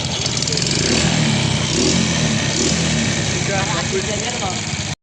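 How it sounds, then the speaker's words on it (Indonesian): Suzuki Shogun 125 motorcycle engine after a carburetor idle adjustment, running steadily close by and being revved, with someone talking over it. "Kita coba digas. coba ya. Nah, ini sudah. Udah responsif."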